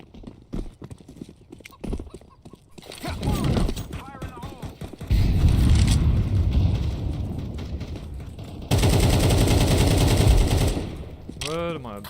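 Counter-Strike 2 gunfire on the Inferno map: loud sustained automatic bursts in two long stretches, mixed with game ambience and someone talking over parts of the action.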